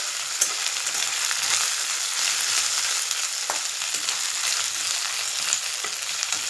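Something fries in a pan while a cabbage and moong dal curry is made, a continuous bright sizzle with scattered faint clicks and scrapes throughout, no one talking.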